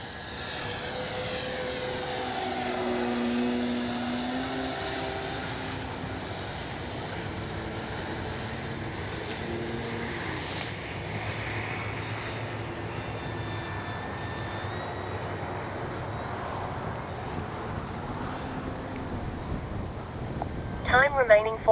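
A Hangar 9 J-3 Cub RC plane with a 10cc engine flies high overhead on its maiden flight, its engine drone steady and moderately distant across the whole stretch with pitch rising and falling as it turns in gusty wind, while a person talks over it.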